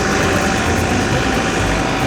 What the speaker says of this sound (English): we'll just hop in the tractor and try to push this in with the loader